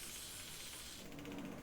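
Aerosol can spraying foaming lubricant onto the moving points of a bicycle about four or five years old, a short, close, steady hiss.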